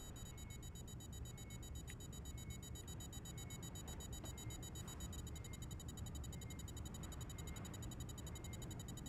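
A faint, steady electronic alarm tone pulses in the background of a tense sci-fi combat game, thin and high over low ambient rumble, with a few soft clicks and no speech.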